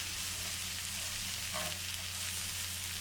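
Vegetables and cashews stir-fry in soy sauce, a steady, even sizzle with a brief stir in the middle, fairly faint and continuous.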